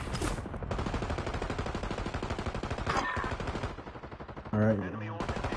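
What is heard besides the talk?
gunfire in a video game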